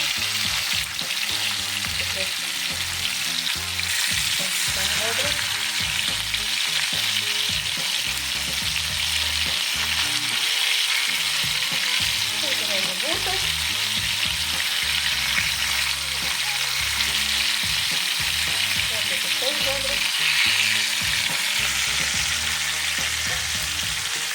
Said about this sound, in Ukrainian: Це також гарненько смажилися.